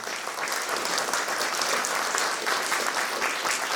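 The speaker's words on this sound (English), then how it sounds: "Can we give her one more round of applause?" A school concert audience gives a steady round of applause, many hands clapping evenly at moderate distance for almost four seconds, with no voices over it.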